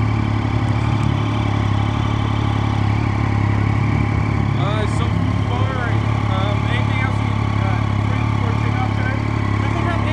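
A 2013 Triumph Street motorcycle engine runs close and loud, a steady throbbing idle with mechanical clatter and slight shifts in pitch as it is revved.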